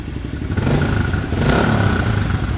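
A stock, warmed-up motorcycle engine revs through its exhaust, loud and close, with the throttle blipped twice so the engine note swells and holds over a steady rumble.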